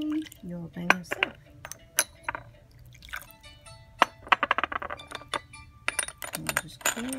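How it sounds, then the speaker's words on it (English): Metal tea tongs lifting and knocking small porcelain gongfu tea cups in boiling water, a run of bright scattered clinks and taps close by, with soft talk between them. "So this is a tea tool we're using for picking the cups because our water is boiling."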